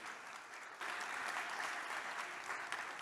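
Studio audience applause at a radio quiz recording in a mall, a steady dense wash of clapping that swells louder after a moment and holds.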